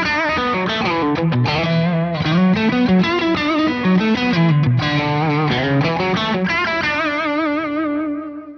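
Electric guitar on the bridge pickup through a Wampler Dual Fusion overdrive pedal plays fluid, sustained melodic lines with a light driven tone, closing on a long held note that fades out.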